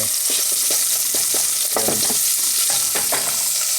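Onion sautés in hot oil with hot pepper for a Spanish rice and lentil dish, a loud close hiss with quick rhythmic spatula scrapes stirring the pan.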